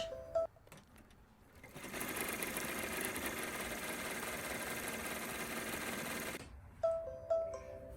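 A Brother PR1055x embroidery machine stitching the finishing stitch of an appliqué, a fast, steady mechanical whir of needle strokes that starts after a few clicks, runs for several seconds, then stops with a couple of thumps, heard close with no talking.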